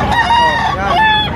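A close, loud rooster crows one long drawn-out cock-a-doodle-doo with a clear wavering tone in a single call.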